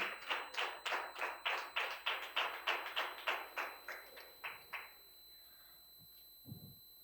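Audience at a church VBS final-day program clapping to cheer on children, about twenty evenly spaced, fairly loud claps in a steady rhythm that stop abruptly, followed by faint room noise.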